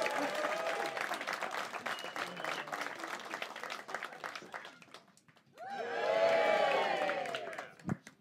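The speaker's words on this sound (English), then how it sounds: "Make some noise for Andy Roach!" Comedy club crowd at Hot Water Comedy Club applauding for a comedian taking the stage: dense clapping throughout, dipping briefly, then swelling again with loud cheers and whoops near the end.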